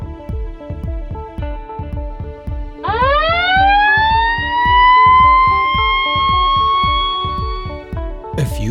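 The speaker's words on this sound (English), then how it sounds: "If you ever hear the emergency siren, you must go immediately to the primary muster station" A port emergency siren winds up and holds a loud, sustained wailing tone over a rapid mechanical pulsing, drifting slightly in pitch before a brief sharp burst at the end.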